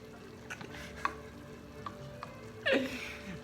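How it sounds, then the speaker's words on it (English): Food being stirred in a frying pan, a soft steady sizzle broken by several light scrapes and taps of the utensil, ending in a louder scraping stir. "So just stir, stir, stir."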